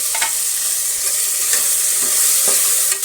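Fennel seeds sizzle steadily in hot oil in a pan, a constant loud crackling hiss with a few soft stirring clicks and scrapes, no voices.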